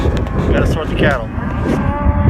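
Cattle moo loudly and repeatedly while a herd is pushed into a corral on a ranch drive, several overlapping calls close by over steady trampling and background noise.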